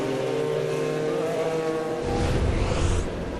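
An IndyCar race car at Mid-Ohio in Lexington during a 2015 race, with a steady, loud engine drone that swells and roughens as the car pulls into the pits, continuous and without talk.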